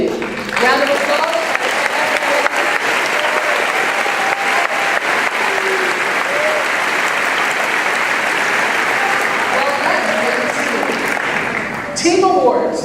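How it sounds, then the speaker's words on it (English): Sustained audience applause at a middle school eighth grade promotion ceremony, dense clapping from a large crowd in a hall that fills the whole stretch and fades near the end. "Round of applause."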